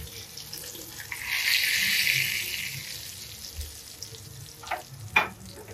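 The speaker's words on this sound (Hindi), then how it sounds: "अब इस तड़के को उठा करके डाल देंगे हम दाल के ऊपर।" A hot spiced tadka of chilies and masala is poured over chana dal and sizzles in a rising hiss that swells and fades over a couple of seconds. A few sharp clinks of utensils follow near the end.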